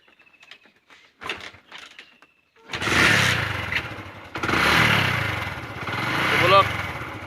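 A motorcycle engine that stalled in the cold is cranked and restarted, sputtering into two sustained rough revving bursts after some quiet clicks and handling noises, close by, with people talking.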